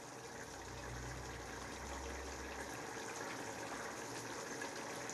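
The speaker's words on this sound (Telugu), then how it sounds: "దాని మీద కానీ అది రసం పోస్తుంది చూడండి" Liquid pours and gushes steadily as rasam curry soup is poured in, a soft continuous watery rush with a low rumble at the start.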